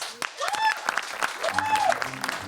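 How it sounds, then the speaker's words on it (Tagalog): Studio audience applause on a talk show, clapping heard beneath overlapping voices and whooping calls, with a musical sting woven through. "Palakpakan natin si Ate Alex!"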